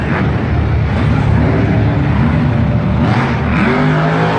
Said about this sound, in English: starting to hit the loud pedal, revving that truck to the extreme